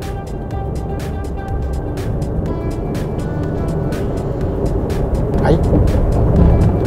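A Nissan Serena driving in Niigata toward Ikazawa hot spring. Steady engine and road rumble fill the cabin and swell slightly, with people talking over it.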